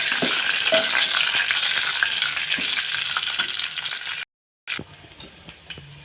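Curry leaves and dried red chillies being stirred as they fry in a pan for a tempering, a steady close sizzle with scraping that cuts out briefly near the end, no talking.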